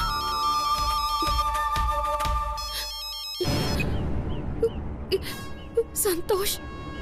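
A mobile phone rings with a repeating electronic ringtone melody for a few seconds, then stops abruptly. Background noise and voices follow, with short tonal chirps toward the end.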